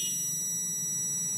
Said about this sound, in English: So in this point also short, it gives buzzer.